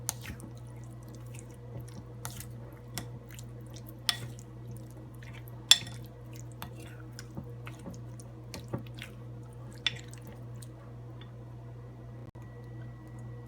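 Chicken for satay is mixed with soy sauce and ginger garlic paste, making soft, sparse squishes and light ticks at irregular intervals over a steady low hum.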